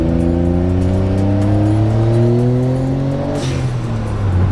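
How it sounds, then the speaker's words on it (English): A Mazda kei car rebuilt as a mini Ferrari F40 revs its small turbocharged engine with a rising drone, then a sharp hissing whoosh from the dump valve bursts out as the revs drop, all close and loud. "Oh, the dump valve sounds fantastic."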